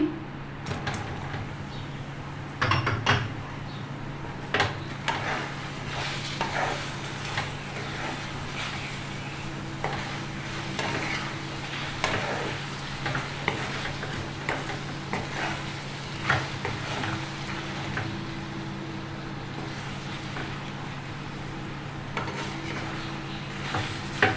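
Raw mango pieces cooking in melted jaggery in a pan, a low continuous bubbling sizzle broken by intermittent scraping and clatter from a utensil.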